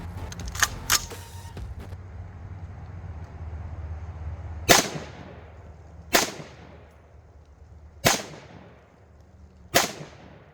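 An AR-15 fitted with a 7.62 suppressor fires a few faint early shots, then four loud, sharp, muffled cracks spaced about one and a half to two seconds apart. Each crack decays quickly outdoors.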